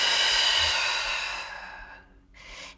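A long, breathy exhale during a yoga exercise fades gradually, followed by a shorter breath near the end, close and without talking.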